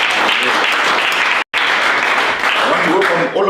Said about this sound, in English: can we clap our hands for him?